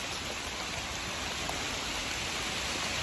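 Rain falling on a greenhouse roof, a dense, even hiss of drops that stays loud and constant, heard from inside with no talking.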